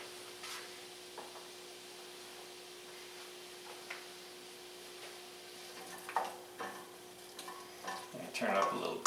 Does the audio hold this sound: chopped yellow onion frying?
yes